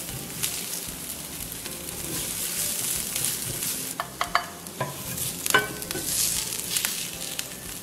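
Shallots fry in bacon fat in a pan, giving a steady, close sizzle with scattered sharp crackles and scraping stirs, no voices.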